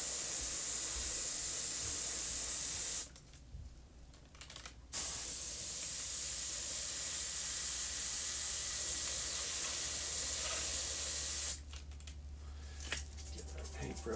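An airbrush sprays paint onto a graffiti piece with a steady, close hiss that cuts out for two short pauses before starting again.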